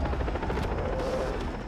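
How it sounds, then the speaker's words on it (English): A helicopter flies in the video game Far Cry 3, a loud, close, continuous rotor chop with steady rhythmic beating that fills the scene, with no voices. "There is a helicopter"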